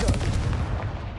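Confringo blasting spell cast in a video game, a dense booming burst of explosive rumble filling the moment, loud and close with no talk.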